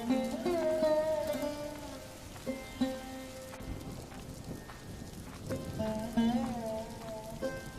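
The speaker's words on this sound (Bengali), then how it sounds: "শীতের সময় বৃষ্টি আমি কোনোদিন দেখিনি" Steady winter rain falls on a village during a flood, heard as a continuous patter beneath a loud musical score with sustained tones throughout.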